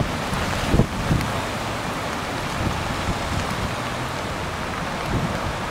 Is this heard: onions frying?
no